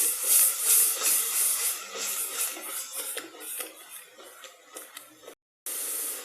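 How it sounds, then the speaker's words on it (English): Onion paste and freshly ground spice powder sautéing in a pan for homestyle chicken curry, a steady close hiss and crackle with soft shuffling stirs, cutting out briefly near the end before resuming. "We need to saute this well till the raw smell goes"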